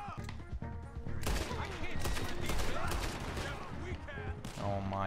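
Rapid gunfire from horseback in the Red Dead Redemption 2 video game, loud bursts of repeated shots with music and a voice underneath.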